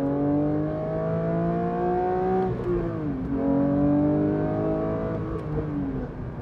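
A Porsche 992 GT3 Touring engine revs hard through a series of downshifts, its rising and falling engine tones overlapping with the loud, continuous drone of the car in motion.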